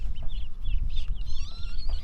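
Newly rescued ducklings on their first day home peep in a rapid, high, thin chatter of overlapping calls, close by over a low rumble of handling and movement noise.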